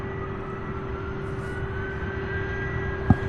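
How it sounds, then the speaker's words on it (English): A UPS cargo jet taking off at Louisville International Airport, its engines giving a steady distant roar with a constant whine, with one brief knock near the end. "It's going to be a beautiful takeoff."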